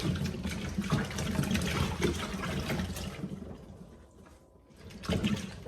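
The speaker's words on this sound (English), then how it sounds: "So I'm just gonna dump them into my sink. And swish them around." Apples are swished around in a sink full of salted water, making close, continuous sloshing and gurgling that eases off briefly before a final surge of splashing.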